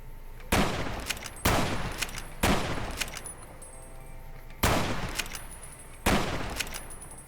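Gunfire in Fallout: New Vegas, five loud, separate shots spaced about a second apart, each a sharp crack with a short ringing tail, heard alone without talk.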